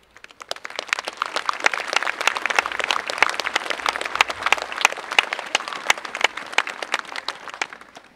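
Sustained applause from a live audience welcoming guest speakers onto a stage, dense and steady clapping with sharp individual claps standing out throughout.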